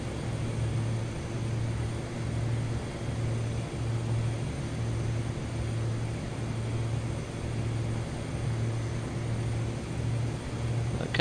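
A small propeller airplane on its takeoff run near Sherman Meadows, Canada, giving a steady, loud engine drone with a pulsing propeller throb that holds throughout.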